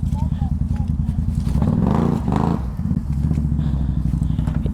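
A Can-Am XMR 700 four-wheeler in 4WD with its engine revving hard as the wheels spin in thick mud, a loud steady drone that rises and falls through a surge, with people talking over it.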